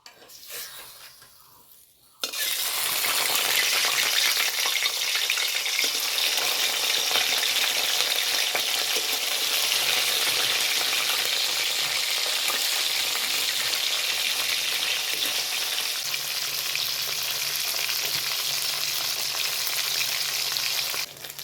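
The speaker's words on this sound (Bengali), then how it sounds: "এখন এই শোল মাছগুলোকে আমি ভেজে নেব।" After a brief quiet start, loud steady frying fills the rest, a dense continuous sizzle of snakehead fish in hot mustard oil, close up with no talking.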